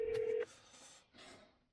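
A phone dialing a non-emergency line in Canada gives a short, steady telephone tone followed by softer, fainter tone bursts, quiet and with no talking.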